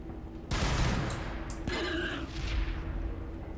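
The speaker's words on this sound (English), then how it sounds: "let's use the grenades." Grenade explosions in the Warhammer 40k Battlesector video game, a burst of sharp blasts and booming impacts, with a second crack partway through and rumbling debris trailing off, loud and close, no talking.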